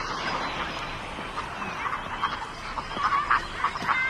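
Ducks, geese and other birds squabbling and splashing on a lake, a lively mix of honks, quacks and chirps over a continuous outdoor wash, with no talking.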